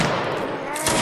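A volley of musket fire from a Napoleonic Wars line battle game crackles with overlapping shots, loud and close, followed by a sharper burst near the end.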